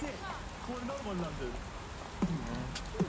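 Heavy rain downpour in the video game Watch Dogs Legion: a steady, dense hiss runs through the whole stretch while a voice hums and beatboxes over it.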